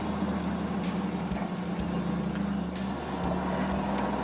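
A second-hand car on a test drive rumbles steadily from inside the cabin, a constant low road and engine drone with wind hiss and occasional soft thumps, no voices.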